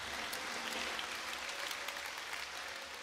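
A church congregation claps together in steady, continuous applause, heard from a little distance and fairly quiet, without any voices over it.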